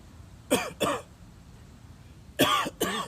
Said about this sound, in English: You see what I'm doing here? I'm coughing.